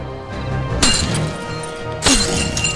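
Iron chains breaking as a sound effect, two loud sharp metallic shattering crashes about a second apart, each ringing briefly over a sustained low tone.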